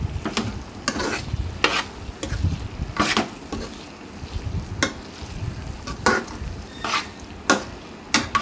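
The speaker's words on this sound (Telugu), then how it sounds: "ఇప్పుడు మొత్తం కలిసే విధంగా ఈ విధంగా కలిపేసుకోవాలి" A spoon stirs curry with chili powder in a hot pan, giving repeated scraping strokes over a steady low frying sizzle, close and moderately loud with no talking.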